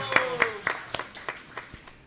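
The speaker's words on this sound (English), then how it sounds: "a round of applause for the children" At a Sunday love feast, a scattered handful of people clap for the children, about eight separate, evenly spaced claps over two seconds, fairly close and modest in volume, with a brief voice at the start.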